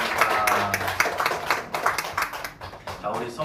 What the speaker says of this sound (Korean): 아버지 하나님께 감사와 큰 영광의 박수 올려드리겠습니다